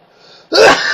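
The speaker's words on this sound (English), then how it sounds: "Twice I sneezed." A single sharp, loud sneeze bursts out halfway through after a quieter breathy lead-in, close to the microphone.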